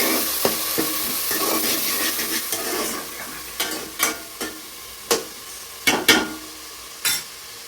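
Godavari-style fish curry being stirred and mixed in a pot, a soft continuous sizzle punctuated by a series of distinct, close scraping strokes of the spoon against the pot, growing more spaced out toward the end, with no speech.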